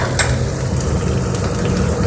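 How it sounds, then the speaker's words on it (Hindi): Onions frying gently in a pan give a steady close sizzle with a few sharp crackles, heard alone. "अभी प्याज हल्के से भून के रेडी होने वाले हैं"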